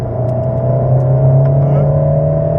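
A car engine drones close by on a race circuit with a steady rising tone, revving as it accelerates over a couple of seconds.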